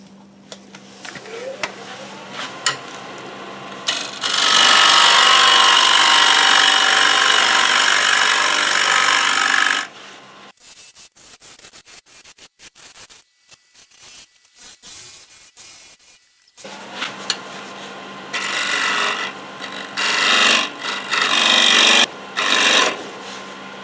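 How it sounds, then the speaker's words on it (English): A bowl gouge cuts hard black locust wood on a lathe. Loud, close scraping rasps run in long sustained passes, broken by a quieter stretch with the lathe humming before shorter cutting bursts resume. "I know I need to sharpen this bowl gouge. This locust is pretty hard wood."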